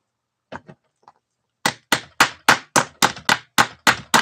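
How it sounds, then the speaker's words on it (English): Hammering like a carpenter or upholsterer at work: a few faint knocks, then about ten sharp, evenly spaced strikes in quick succession, loud and close. "an upholsterer or a carpenter working. hammering."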